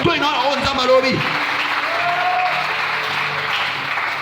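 A church congregation applauds the Lord, loud sustained clapping mixed with crowd cheers while a preacher's voice talks over it at the start.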